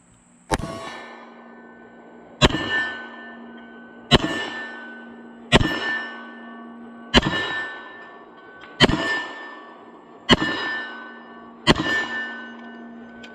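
Steel targets ring as a Sig Sauer 1911 Extreme .45 ACP pistol fires outdoors, eight sharp shots spaced about one and a half seconds apart, each followed by a long metallic clang that decays, with no talking.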